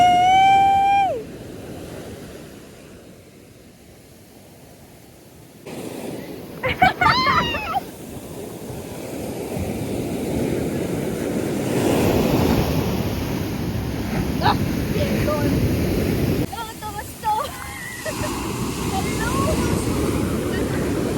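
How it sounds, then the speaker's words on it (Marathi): Ocean waves breaking on the beach at Pondicherry, a broad rolling surf wash with wind buffeting the microphone, rising and falling over the stretch while people talk and exclaim nearby. "किती मोठी लाट आली आहे."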